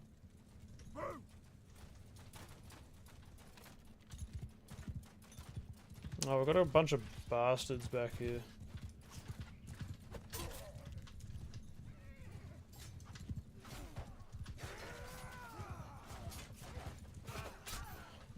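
Cavalry horses in a medieval battle video game, hooves clip-clopping under loud whinnies and neighs midway, with someone talking over the mounted troops and battle noise.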